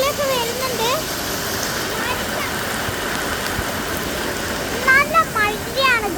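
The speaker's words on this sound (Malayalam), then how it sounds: "നല്ല മഴയാണ് ഗൈസ്." Heavy rain pours in a dense, constant hiss that fills the whole scene, with a person speaking faintly over the downpour at moments.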